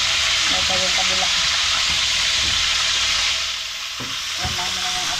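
Freshly caught fish fry in a pan, giving a steady, loud sizzle and hiss with occasional clatters and stirring knocks in the background.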